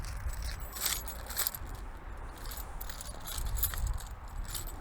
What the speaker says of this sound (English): I got a lot of keys.